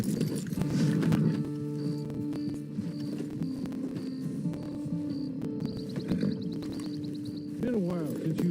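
Horse hooves clip-clopping along a trail near a camp in Red Dead Redemption 2, a steady rhythmic patter under game music and ambient hum throughout.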